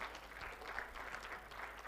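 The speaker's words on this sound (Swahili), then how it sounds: "Makofi kwake tafadhali." An audience claps for a speaker at a public event, a dense, even patter of applause heard at moderate distance, sustained throughout without speech.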